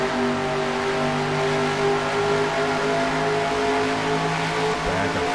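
Race car engine off throttle in the NR2003 stock car racing game, a steady loud droning engine tone with layered harmonics holding for several seconds, no talk over it.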